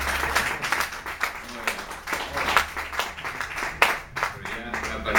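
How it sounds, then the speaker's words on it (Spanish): An audience at a round-table discussion on the transition to democracy in the Canary Islands breaks into scattered, continuous clapping that goes on for several seconds, mixed with voices. "si quieren aplaudir, adelante"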